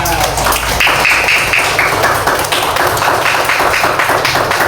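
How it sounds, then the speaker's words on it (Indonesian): A class of students clapping together in a classroom, loud, dense and continuous with rhythmic taps, a voice briefly heard along with it. "sekali lagi tepuk tangan untuk kita semua"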